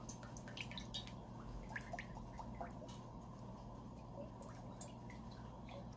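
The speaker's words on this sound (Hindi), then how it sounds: "सबसे पहले कढ़ाई में ऑयल ऐड करेंगे।" Cooking oil is poured into a kadhai over a lit flame, making a faint, continuous gurgling trickle with scattered small drips throughout.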